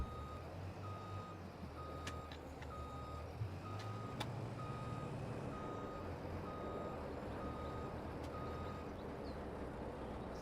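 Truck reversing in a farming video game on a British map, a steady, evenly spaced electronic reversing beep repeating over a low engine rumble, moderately distant and alone with no talk.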